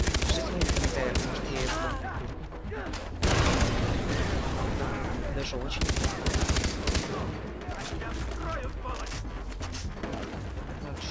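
Continuous gunfire in Far Cry 3, sustained loud automatic bursts and heavy shots pounding almost without pause, with someone talking over the shooting throughout.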